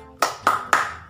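A class claps out a short focus routine: three crisp, evenly spaced group claps, close and sharp, with nothing else audible.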